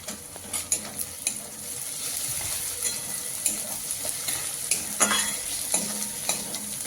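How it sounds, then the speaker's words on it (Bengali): Tomato fries with onions in a pan for a dried-pea ghugni, making a constant close sizzle with repeated spatula stirring scrapes and light taps throughout. "টমেটো খুব ভালোভাবে পেঁয়াজের সঙ্গে কষিয়ে নেব।"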